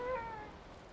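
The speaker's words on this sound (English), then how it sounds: "Oh, God, there's a cat." A cat meows once in the video game Valheim, a short, faint, rising-then-falling cry.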